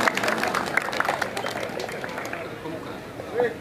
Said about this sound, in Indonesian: Beri tepukan yang meriah buat Desa Teluk Ambung